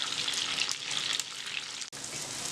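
Courgettes fry in a pan with oregano, giving a steady, close sizzle with a faint watery hiss throughout and one brief drop in the middle.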